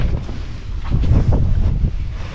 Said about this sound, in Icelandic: Það er miklu meiri vindur hérna núna hjá bauginni